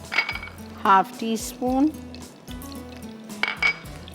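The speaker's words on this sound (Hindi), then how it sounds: "इसका बघार दे रही हूँ मैं घी में।" Fenugreek and mustard seeds tempering in hot ghee for a Gujarati curry, with clinks of a metal spoon against the pan and light sizzling, someone speaking briefly over it.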